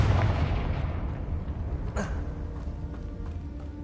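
A Confringo spell explosion in the video game Hogwarts Legacy, one sharp burst near the middle over a low rumbling game backdrop, fairly quiet overall and without speech.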